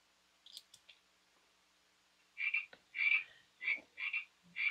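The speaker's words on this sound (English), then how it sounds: "there's frogs playing now every 3 seconds" Recorded frog croaks played from an MP3 player inside an animatronic frog: a few faint clicks, then a run of loud, bright, rasping croaks in quick bursts, close and otherwise quiet.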